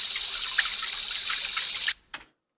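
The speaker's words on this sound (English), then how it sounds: "Yep, a stream and some crickets." A stream and crickets ambience sample from the Euphoria pack gives a steady rush of flowing water under a high continuous insect chirr, then cuts off abruptly into silence.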